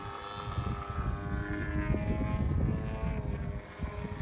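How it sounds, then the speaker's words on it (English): A radio-controlled Vertigo 2M model airplane drones overhead on its maiden flight, a steady buzzing propeller whine with shifting pitch, fairly distant and continuous over outdoor wind noise. "You want to follow the plane and I'll video?"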